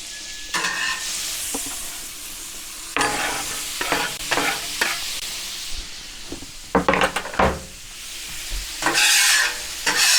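Onions fry on a Pit Boss Ultimate gas griddle with a constant sizzle, broken by repeated spatula scrapes and stirring clatters that come in bursts, close and fairly loud.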